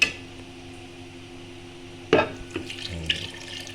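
Water splashes into a metal pot of uncooked rice with a short clink of cookware, then a few quieter pours and knocks.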